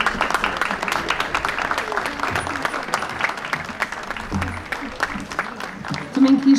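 Crowd applause at the Doze Ribeiras festival parade opening, a loose scattered clapping with distinct sharp claps beneath a voice talking over it, swelling slightly toward the end.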